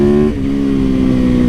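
A 450cc dirt bike engine revs loud and close, holding a steady throaty drone with a brief dip early on, no voices present.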